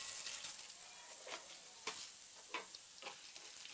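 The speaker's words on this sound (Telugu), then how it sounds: "పచ్చిశనగపప్పు 1 లేదా 2 నిమిషాల పాటు వేగిన తర్వాత సాయిమినపప్పును కూడా వేసుకొని వేయించాలి" Chana dal and urad dal frying in a pan: a soft, continuous sizzle broken by several sharp scraping or tapping stirs spaced a second or so apart, fairly close.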